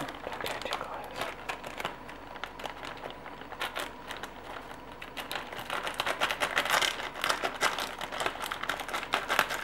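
Dense crinkling and snipping as scissors cut hot plastic bag around a dry-aged ribeye, close and continuous, with sharp crackly cuts building slightly louder toward the end.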